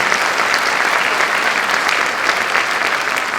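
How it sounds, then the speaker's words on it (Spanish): Steady audience applause fills an auditorium at a thanatology conference, a dense, even wash of clapping that holds at full strength throughout with no voices over it. "Y por favor, un aplauso para Juan Pablo Bravo."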